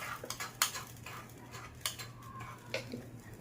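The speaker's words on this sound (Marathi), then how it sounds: "छान तडका आणि चटणी मिक्स करून घ्यायची।" A spoon stirs tempering into a bowl of chutney for medu vada and sambar, making a few quiet metallic clinks and scrapes against the dish over a low background hum.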